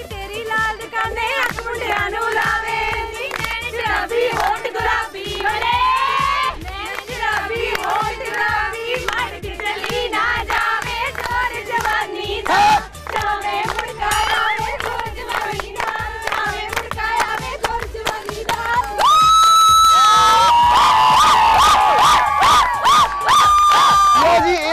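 A loud college crowd at a nursing college event in Kotkapura cheers, whoops and shouts throughout, a dense and sustained din that swells louder toward the end.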